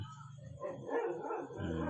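A dog yips and barks a few times in a rural countryside setting, faint and somewhat distant, over steady background noise with no clear talk.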